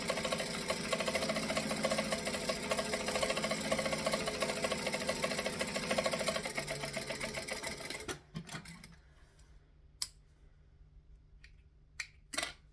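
A sewing machine stitches forward and then back-stitches in a long, fast, close-up mechanical run. It stops abruptly and a few faint clicks follow in near silence.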